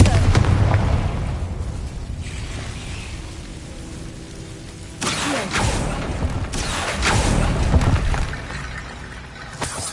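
Confringo fire spell blasting in the Hogwarts Legacy video game: loud booming explosions with crackling, rain-like debris, a heavy burst early, a quieter stretch, then a second strong blast rolling on with dense rumble, no talk.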